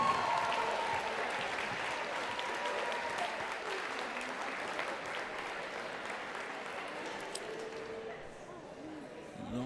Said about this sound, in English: Let's give it up for the FHS cheer team.